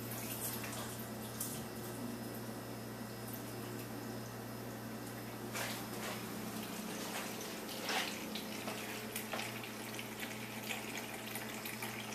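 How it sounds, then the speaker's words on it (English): Water from a mini water softener streams steadily into a bowl, a continuous soft splashing rush over a constant low hum, with a couple of brighter splashes midway. "I'm going to fill this bowl with soft water from our mini softener"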